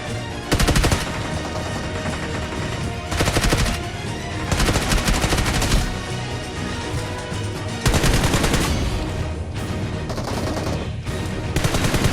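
Gunfire in the PUBG Mobile video game: dense, loud bursts of automatic rifle fire that surge in several heavy volleys, with near-continuous shooting throughout and no talking.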